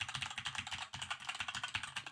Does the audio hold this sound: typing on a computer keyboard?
yes